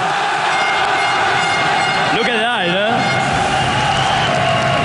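A loud French crowd at a League of Legends LCS esports match roars and cheers continuously, with a rising collective shout in the middle, while someone talks over it up close.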